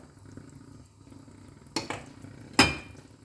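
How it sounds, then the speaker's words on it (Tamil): Soaked basmati rice is tipped into a pot of boiling water with mint leaves while cooking a vegetarian mushroom biryani, two sharp splashing clatters standing out against a low, quiet simmer. "அரிசி இப்போ இதில் சேர்த்துக்கலாம்."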